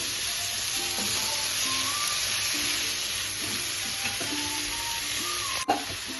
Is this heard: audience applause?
no